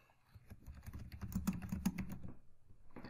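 Quiet, rapid typing on a computer keyboard, with a dense run of soft key clicks lasting a few seconds and no voices.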